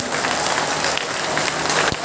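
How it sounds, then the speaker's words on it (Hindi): A crowd at a political rally claps steadily and loudly for a couple of seconds, dense applause without pause. "सब लोगों के लिए तालियां बजाइए"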